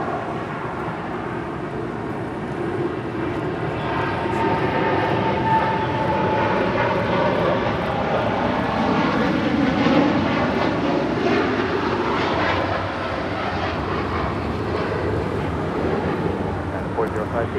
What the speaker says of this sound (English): 787-10 Dreamliner, now rolling down, 25 right.